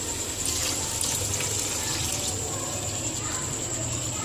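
A glass of water is poured into a pot of fried ingredients for Hyderabadi chicken tahari, a soft continuous splashing and gurgling with a faint steady background tone.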